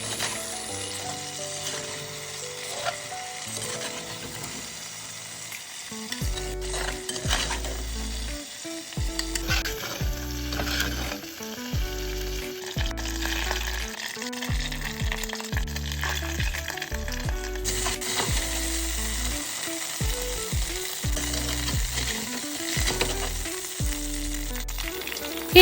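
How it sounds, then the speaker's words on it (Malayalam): Prawns deep-frying in hot oil for a chilli prawn dish, a steady dense sizzle running throughout, close and fairly loud, with rhythmic tonal music playing over it. "പ്രോൺസിന് അധികം വേവില്ലാത്തതിനാൽ പെട്ടെന്ന് വറുത്തെടുക്കണം"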